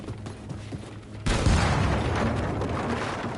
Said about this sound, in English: That was a really cool explosion.